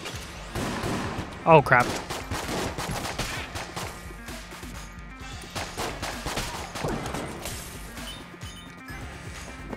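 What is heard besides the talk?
gun firing in Enter the Gungeon video game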